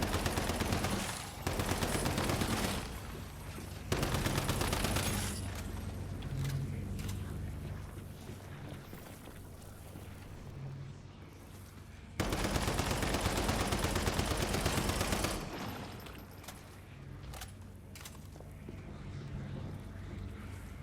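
Gunfire from a gun in the survival shooter game Once Human, heard as loud bursts of rapid automatic shots across several stretches, with quieter ambient game noise between them.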